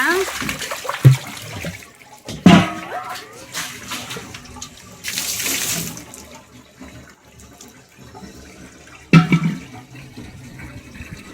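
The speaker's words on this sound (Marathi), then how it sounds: "चला आता नळ आले तर पाणी भरून घेतो" Water running from a household tap into containers, a continuous splashing gush that swells and fades with louder bursts and clatters, while a person speaks over it at times.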